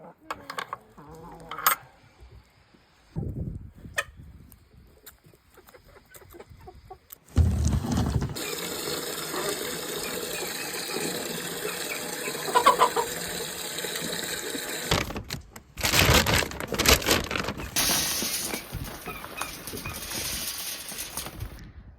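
Chickens clucking in a coop on a Yukon homestead during morning chores, scattered clucks and bird calls mixed with clanks, rustling and a long stretch of loud running noise such as pouring feed or water.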